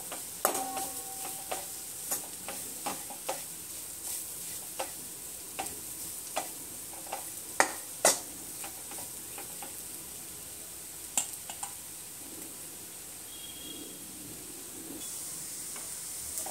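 Spice masala roasts over a low gas flame while being stirred, a soft, steady sizzle under regular light ticks and clicks of a spoon against the pan, close but fairly quiet.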